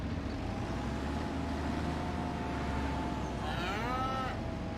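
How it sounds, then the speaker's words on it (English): Calves moo in the farming game Farming Simulator 25, a drawn-out low bovine call holding steady before rising into a higher, wavering bleat near the end, over a constant low background hum, with no talking. "Well, that sounds like a calf."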